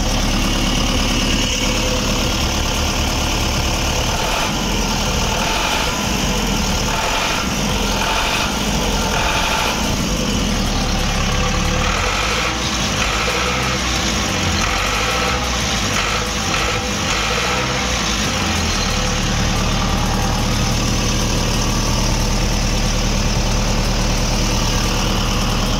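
An old Zetor 7245 tractor engine runs after a cold start at -7°C, idling with a heavy diesel rumble and rising in pitch as the throttle is opened and held, loud and steady throughout.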